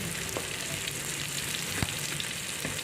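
Garlic and onion fry in a pan with a steady, close broadband sizzle, broken by a few sharp ticks and pops, and no voices.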